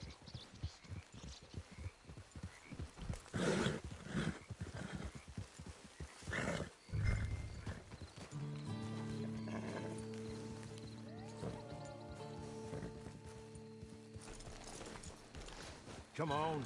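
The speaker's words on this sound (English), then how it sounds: "It's your horse." A horse in the video game Red Dead Redemption 2 clops along with steady hoofbeats and lets out a whinny, with game voices talking and a sustained musical drone rising in the second half.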